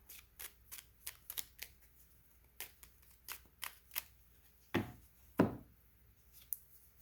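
Tarot cards being shuffled by hand, close up: a run of quick, crisp riffling taps and flutters, then two heavier thumps as the deck is squared, with no talking.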